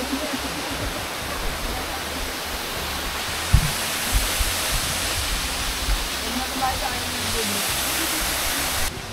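Antipolo Falls, a forest waterfall in Bagac, Bataan, gives a steady, dense roar of falling water that stays constant throughout.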